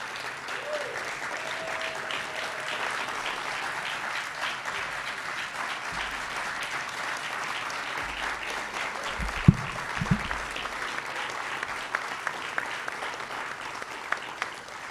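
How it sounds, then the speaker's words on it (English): A room full of people applauds honorees at a Juneteenth living legends awards event, sustained even clapping for about fifteen seconds with a few louder bumps near the middle. "Let's give them a big round of applause"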